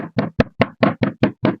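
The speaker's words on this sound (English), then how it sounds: "I'm going to take my mallet. I'm going to now smash it." A mallet pounds chokka squid bait flat for fishing, eight sharp, evenly spaced whacks in quick succession, loud and close with nobody talking.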